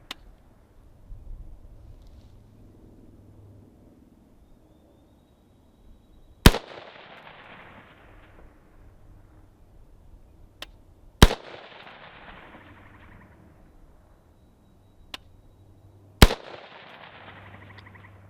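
Rifle shots at an outdoor shooting range ring out as four loud, widely spaced cracks, each followed by a long decaying echo. Quiet low background noise fills the gaps between them.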